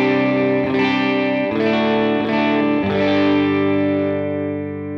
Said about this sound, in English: It sounds like this. It's the edge of breakup tone.